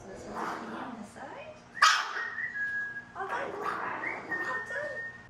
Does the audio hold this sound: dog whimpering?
yes